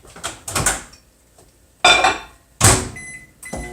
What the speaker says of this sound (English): I'm just going to microwave it